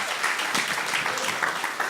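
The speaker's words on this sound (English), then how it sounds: "Give him a hand." A church audience breaks into dense, continuous applause, a steady roar of many hands clapping together.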